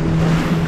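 A motorboat powers through river water in the Taman Negara rainforest of Malaysia, its steady engine drone mixed with rushing water and wind buffeting the microphone.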